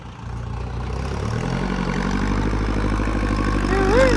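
A Kubota L50 tractor engine idles and runs steadily nearby, a low rumble that grows slightly louder, with a brief rising whine near the end.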